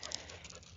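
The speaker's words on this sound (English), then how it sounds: "if you hear panting in the background, this is not porn. You have not stumbled upon porn. Nothing gross. It is my dog getting his exercise." A dog panting steadily outdoors during exercise in light rain, a soft continuous breathy rhythm close by with no talking.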